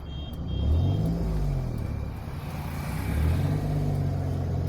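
A driving-school car pulls away in traffic on half clutch and light throttle, its low engine rumble steady and close, swelling gently as it moves off, with no voices.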